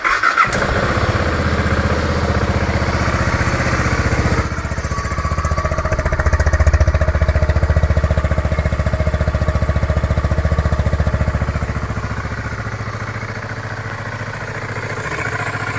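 A 2014 BMW G 650 GS motorcycle with a Rotax single-cylinder engine cranks and fires up loudly nearby, then settles into a steady, throbbing idle that continues alone for the rest of the clip.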